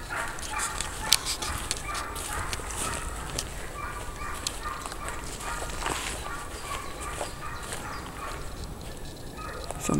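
A dog barks and yips repeatedly in short bursts at moderate distance, with people talking throughout and some footsteps in the background.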